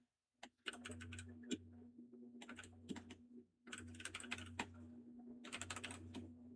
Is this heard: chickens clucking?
no